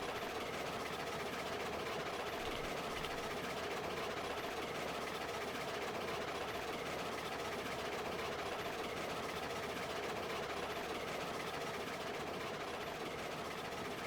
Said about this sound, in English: Look at that big old long train.